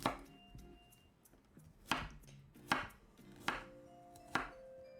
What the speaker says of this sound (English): We're just gonna cut this into like stir fry size.